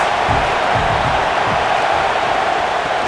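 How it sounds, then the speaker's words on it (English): Crowd at a college football game between the Midwest Rebels and the Oklahoma Sooners in a stadium: a steady, loud roar of many voices, a continuous wash of noise with no distinct breaks. "This crowd trying to make life miserable for this offense."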